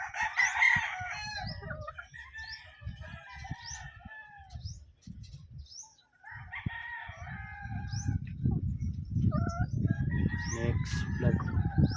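Gamefowl chickens on a game farm, including hens, with repeated rooster crowing and clucking from several birds at varying distances, over a steady background rustle that grows louder toward the end.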